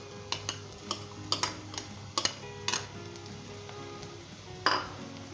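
Onions and ginger-garlic paste stirred in a cooking pot, a spoon tapping and scraping the metal in irregular clinks over a soft steady sizzle.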